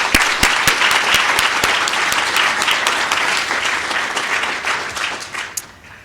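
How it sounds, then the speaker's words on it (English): A large audience applauds at an evening recognition program for National Merit Scholar semifinalists, dense steady clapping throughout that slowly thins toward the end. "So let's just give them one more round of applause."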